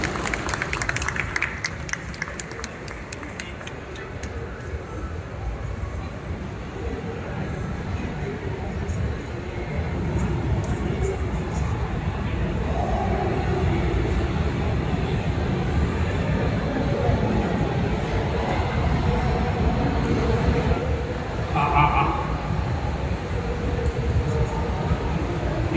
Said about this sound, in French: Applaudissements accompagnés de Vincent qui va faire l'interprète.